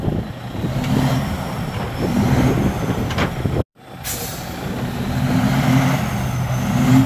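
A big rig truck stuck in snow strains to pull free, its heavy diesel engine rumbling and revving loudly nearby, with a brief dropout and a sharp hiss midway.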